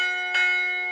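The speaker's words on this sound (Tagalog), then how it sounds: "Kung hatakin mo po pababa, yung hammer niyo po sa taas po maghahampas po doon sa bell para po tutunog po yung kampana" A hammer strikes a church carillon bell once, giving a bright metallic clang that rings on with sustained tones over the fading hum of an earlier strike.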